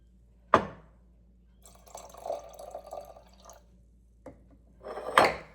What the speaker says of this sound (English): We're going to start with 1/4 cup of regular apple cider vinegar.